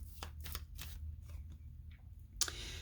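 A tarot card deck is shuffled during a Celtic cross reading, giving several brisk riffling bursts spaced apart, with a sharper snap near the end, close up and fairly quiet.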